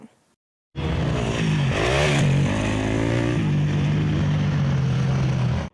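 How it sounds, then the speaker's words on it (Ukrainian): Loud, continuous roar of motocross motorcycles up close, the engine pitch rising and falling as the bikes rev and accelerate. "Гучний рев мотоциклів та неприховані емоції від вболівальників."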